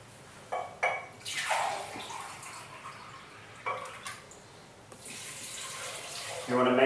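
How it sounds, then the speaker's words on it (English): Water pours from a tap into a large pot of dried Chinese medicinal herbs in a kitchen, splashing in a few bursts with short pauses, close and moderately loud. "we're going to add 2 pints of water"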